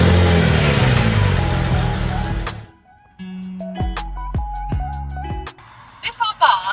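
An Abarth F595 with a 1.4 turbo engine revs loudly and close for a couple of seconds with a raspy roar, then gives way to music.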